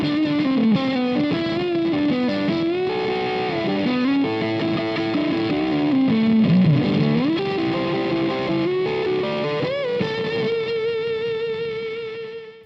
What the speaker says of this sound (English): It's among my favorite heavy distortion pedals.